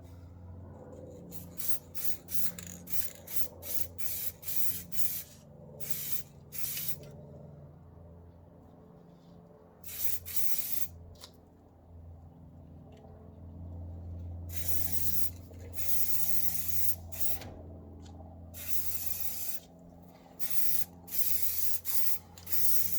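Plasti Dip being sprayed from an aerosol can onto car wheel rims in quick light coats, heard as a series of short hissing bursts and then longer continuous sprays, close and fairly loud.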